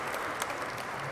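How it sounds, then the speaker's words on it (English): Brief burst of applause from a town hall audience, a dense wash of clapping hands lasting about a second at moderate volume. "a round of applause"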